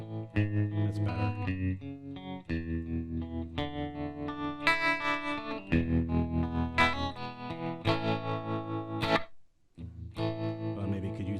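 An electric guitar played through a Spark amp rings out in strummed chords and picked notes with heavy reverb and distortion, loud and close, with a brief pause near the end before playing resumes.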